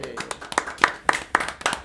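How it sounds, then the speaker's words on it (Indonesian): A few people clapping for talk show guests on an Indonesian talk show, a short burst of sharp, fairly close handclaps in an uneven rhythm lasting under two seconds. "Kita kasih tepuk tangan dulu kali"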